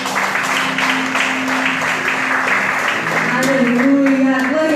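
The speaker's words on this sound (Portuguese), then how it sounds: "Aplauda o nome do Senhor." Church congregation at a Sunday morning service clapping steadily and close by, with a voice talking over the applause throughout and a tonal sound rising near the end.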